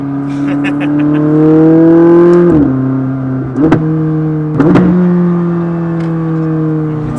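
A McLaren 600LT with a turbocharged V8 revving hard nearby, a loud sustained engine tone that climbs, dips with gear shifts and rises again across several pulls.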